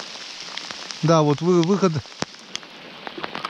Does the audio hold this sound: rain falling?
yes